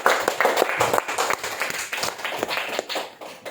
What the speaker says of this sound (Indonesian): kasih tepuk tangan untuk kelompok kedua